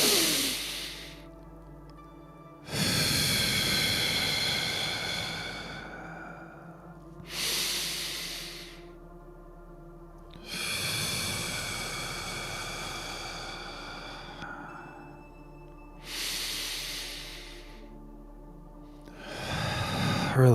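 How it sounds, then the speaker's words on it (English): Slow, deep breathing during a group energy meditation at sunset, with long rushing inhales and exhales repeated about four times, close and fairly loud, each breath separated by quieter pauses. "Now let's begin with our breathing."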